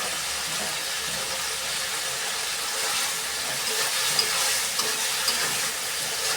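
A curry sizzles in a pan after chili powder is added, a steady, moderately loud hiss of frying that continues evenly throughout with faint clicks near the end and no voices.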